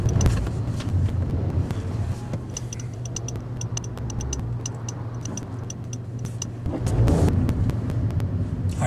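A Honda N-Box Custom kei car drives and makes a U-turn, with a steady low engine and road rumble from inside the cabin, a rhythmic ticking indicator over it and a swell of engine noise near the end.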